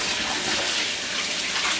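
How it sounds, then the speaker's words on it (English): Water gushes steadily from a tap over pig feet being rinsed in a kitchen, a continuous close splashing flow with no talking. "So we're just gonna run this through water"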